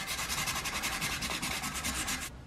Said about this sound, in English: now I'll get some sandpaper.